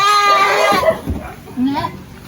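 A goat on a farm gives a short wavering bleat that fades into a fainter second cry, close by, with other low noises around it.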